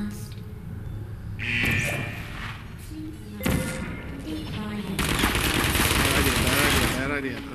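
Automated turrets in the video game Portal fire rapid bursts of gunfire, loud crackling volleys in a few separate bursts, mixed with game effects and a player talking over them.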